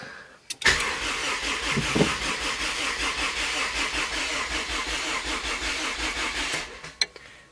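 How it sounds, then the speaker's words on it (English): A rebuilt Honda CR-V engine cranks steadily on its first start attempt, a continuous churning starter whir running about six seconds without catching, close and loud, bracketed by sharp clicks at the start and end. "Alright, we got cranking."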